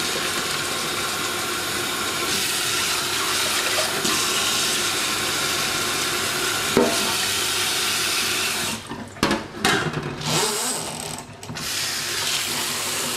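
Cooked basmati rice and its water are poured into a metal colander in a kitchen sink, making a steady loud rush of water that runs for most of the clip before breaking into uneven splashes and trickles.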